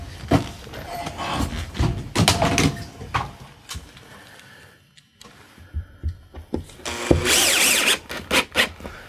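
A power drill drives screws through drywall into a ceiling joist, several bursts of whirring and grinding with pauses between them, fairly close and loud, with a quiet gap midway and no talking.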